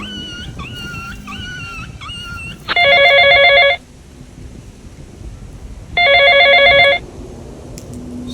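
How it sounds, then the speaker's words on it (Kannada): Telephone ringing with an incoming call. After a few wavering, whining tones, two loud electronic ring bursts of about a second each sound with a short pause between them, and nobody talks. "ಶಂಕರ ಫೋನ್ ಮಾಡ ನೋಡಿ ಕೇಳ್ತೀನಿ"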